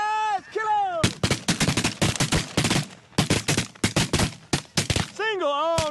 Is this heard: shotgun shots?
yes